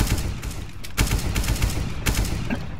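Rapid gunfire from Counter-Strike: Global Offensive, with dense bursts of shots and a few sharper cracks standing out against a busy, continuous game mix, loud and close throughout.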